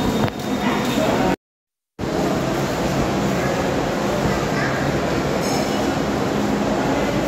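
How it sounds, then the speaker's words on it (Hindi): Railway station interior with trains, a dense continuous rumble and roar of rail noise throughout, broken by a brief complete dropout, with faint squeals and clatter in the mix. "ये रेलवे स्टेशन के अंदर का नज़ारा,"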